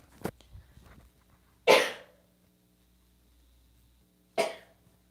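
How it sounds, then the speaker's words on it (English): Two loud, sharp bursts of an explosive sneeze or cough, separated by a few seconds of quiet, with faint indistinct sounds before the first. "Oh, I'm going to sneeze."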